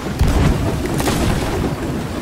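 Heavy, rumbling booms roll through the whole stretch, a dense low-end barrage with bursts of noisy crackle, like cannon fire in a game.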